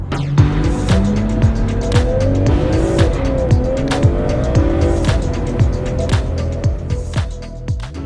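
A 2023 BMW M340i accelerates hard in sport mode, its engine note climbing through repeated gear changes, with sharp crackles between shifts, loud and close.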